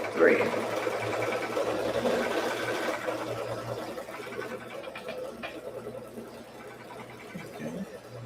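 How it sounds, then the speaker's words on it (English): Sewing machine stitching with peach thread at a live embroidery session, a steady low mechanical hum running under continuous talk throughout. "Now let's go ahead and do all the stitching."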